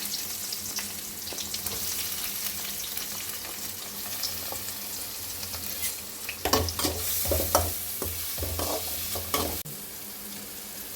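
Onions fry in a pot for one-pot sambar rice, a continuous low sizzle joined partway through by louder stirring and scraping clatter before settling back to the hiss.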